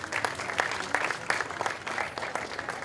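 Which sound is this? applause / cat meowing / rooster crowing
applause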